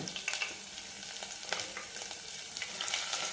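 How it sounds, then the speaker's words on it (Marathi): Tadka chillies fry with ginger and garlic in hot oil, a soft, continuous sizzle with scattered crackles and pops, close but fairly quiet, with no talking. "यानंतर टाकणार आहे आपण याच्यामध्ये तडका मिरची टाकू"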